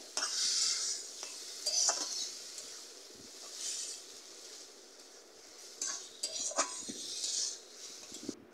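A utensil scrapes and clinks steadily against a pan as fish is stirred and mashed into a thick ghonto, with a soft sizzle underneath and sharper metallic knocks now and then, close up.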